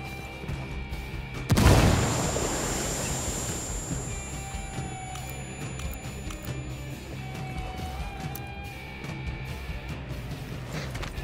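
A frag grenade detonates in the tactical shooter Ghost Recon Wildlands: one sharp, loud blast followed by a long rumbling, crackling decay that fades into steady background ambience.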